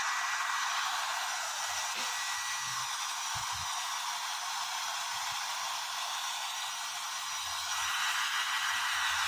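A hair dryer blows steadily while drying a child's hair, a loud, continuous airy roar that fills the whole stretch, with a few faint thumps and rustles underneath.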